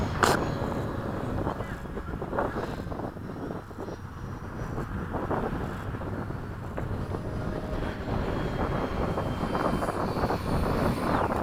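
An FMS 80mm Hawk RC jet cruises at half throttle at a flying field, its steady whooshing turbine-like drone sustained at moderate distance throughout, with faint background noise.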